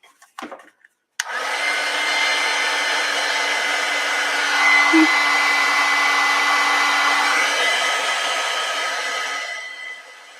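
A hot air blower runs in one steady, loud, continuous rush for about nine seconds as it dries a hot glue stencil, then cuts off, with a few brief knocks just before it starts.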